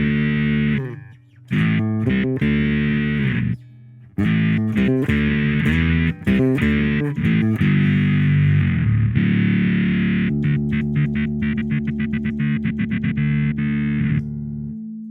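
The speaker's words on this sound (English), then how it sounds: "I'm going to use the same setup that we had before, distortion and delay, but now I've got the Octaver instead of the pitch" An electric bass played through an HX Stomp with distortion, delay and an octaver gives thick, buzzing sustained notes and choppy cut-out stutters, loud and close with no talking.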